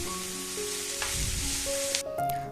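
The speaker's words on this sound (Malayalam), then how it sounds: "എന്നിട്ട് ഇത് നന്നായിട്ടൊന്ന് വഴറ്റാം. ഇതിൻ്റെ എല്ലാം പച്ചമണം മാറാനായിട്ട് കുറച്ച് സമയം ഇളക്കി കൊടുക്കാം." Masala for chicken cutlets sautéing in a pan as it is stirred, a steady hissing sizzle with a faint scrape or two, heard alone with no voices over a steady background tone.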